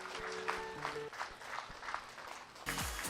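Audience applause at a free Eastern massage master class, steady clapping throughout with a brief louder burst near the end and some tonal background sound underneath.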